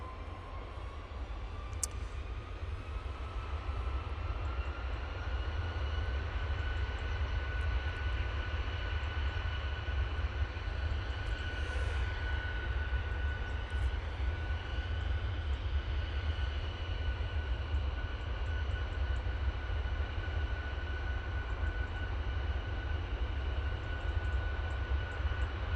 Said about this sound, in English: On short final now, we have the Indigo coming in from Delhi.